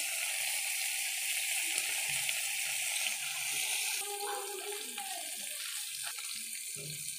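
Food fries in a pan while a spatula stirs it gently: a faint, steady hiss with soft scraping touches and a few quieter tonal bits in the background.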